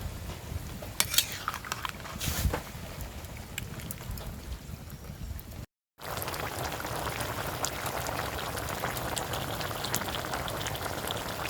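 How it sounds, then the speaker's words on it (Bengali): Chicken curry bubbling at a boil in a pot on a clay stove, with a few scraping clinks of a spoon stirring near the start, a brief dropout midway, then steady close bubbling and simmering noise. "তো এই যে বলক চলে আসছে, সুন্দর করে নেড়ে নিচ্ছি"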